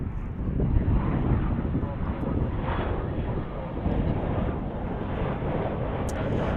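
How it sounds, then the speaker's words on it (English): An Airbus A319 arriving at DFW International Airport, a steady broad jet roar heard from outdoors with wind buffeting the microphone, and people talking over it. "We'll transition here for just a moment to catch this A319 arriving."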